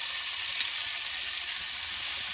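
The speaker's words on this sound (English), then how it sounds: "So I'm going to throw the onions in" Onions land in a hot pan for a vegetable lasagna, giving a steady close hiss of sizzling that stays even for a couple of seconds, with no speech.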